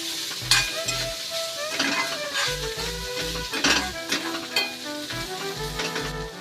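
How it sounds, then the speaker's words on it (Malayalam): Bitter gourd stir-fry sizzles in a pan while a spoon stirs it, rhythmic scraping and knocking against the metal over a steady frying hiss, close and fairly loud, with no speech. "ഇത് നമുക്ക് നല്ലവണ്ണം ഇളക്കി കൊടുക്കാം"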